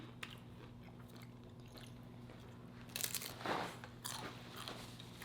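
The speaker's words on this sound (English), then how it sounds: "Let me give y'all a yummy bite." Bites and chewing of homemade seven-layer taco dip, a few crunchy bites around the middle followed by soft close chewing, with a quiet steady hum underneath.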